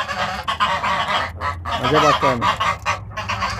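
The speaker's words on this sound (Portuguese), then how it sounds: "Olha o tamanho desse ganso." A large goose on a small farm in Ferraz de Vasconcelos honks loudly and close, repeated nasal calls overlapping someone talking.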